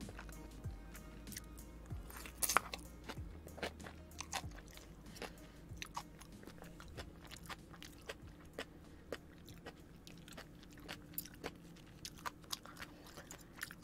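Someone chews and bites food up close, a run of soft crunches and wet smacks repeating irregularly, with one louder crunch early on and no talking over it.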